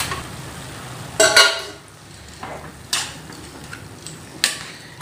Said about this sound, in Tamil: உருளைக்கிழங்கு எடுத்து இதில் சேர்த்துடலாம்.